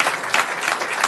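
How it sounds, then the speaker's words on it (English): A round of applause at a city council meeting honoring volunteer police officers, steady and dense clapping from the room heard alone throughout. "if we can get a round of applause"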